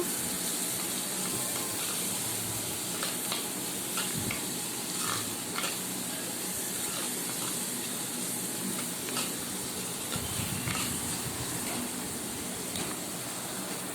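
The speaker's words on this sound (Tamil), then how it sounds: "அதையும் நல்லா வதக்கிக்கோங்க." Steady sizzling and crackling of chopped tomatoes sautéing in a hot pan for a Tamil fish curry, continuous and close, with occasional stirring scrapes.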